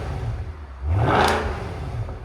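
A Mercedes S-Class V8 engine, either the 5.5 L or the 6.3 L, gives one quick rev that swells to a roaring peak and then falls back to idle. The sound is loud and close.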